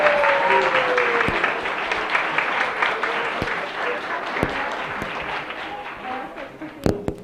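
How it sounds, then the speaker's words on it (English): A temple audience at ISKCON Dallas breaks into applause, a broad wash of clapping that slowly thins out, with a voice speaking over it and a few louder claps near the end. "Give them a round of applause,"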